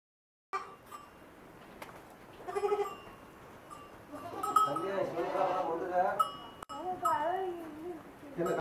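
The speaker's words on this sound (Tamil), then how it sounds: "இந்த ஆட்டுடைய இனத்து பேர் பல்லையாடு." Pallai, a native goat breed of Tamil Nadu, gives several wavering, drawn-out bleats close by, with a voice talking in the background.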